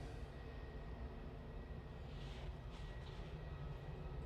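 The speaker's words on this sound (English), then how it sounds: "The Airbus A320neo from the SAS is just coming in over Stockport" A distant Airbus A320neo airliner of SAS coming in to land over Stockport near Manchester Airport, a faint steady jet rumble and broad roar with a slight swell partway through.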